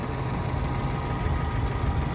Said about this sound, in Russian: Двигатель работает идеально тихо просто.